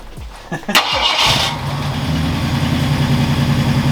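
A Ford Galaxie, freshly rewired and running for the first time in over a year, cranks briefly, catches with a rising roar and settles into a steady, loud high idle near 1400 RPM, close by and continuous.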